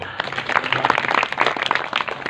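An audience claps along at a devotional memorial gathering, a steady, fairly close patter of many hands.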